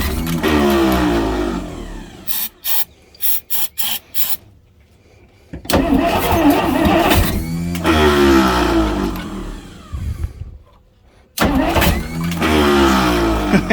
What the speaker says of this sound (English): let's see if we can spin her over.